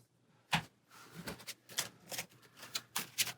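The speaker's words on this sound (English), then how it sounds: "So a whole lot of shuffling going on." Playing cards being shuffled for the Marvel Champions card game, heard as a series of separate quick riffling bursts, close and fairly quiet, with no talking.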